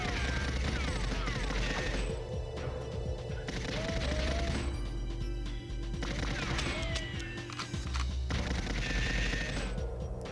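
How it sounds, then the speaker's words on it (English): Repeated gunfire from the GoldenEye 007 Nintendo 64 game as padlocks are shot, sharp synthetic bursts over a continuous loud game soundtrack with dense ambient noise throughout. "And 4 padlocks here. Just shoot them."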